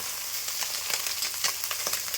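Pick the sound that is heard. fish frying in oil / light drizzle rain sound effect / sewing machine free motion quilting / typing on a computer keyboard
fish frying in oil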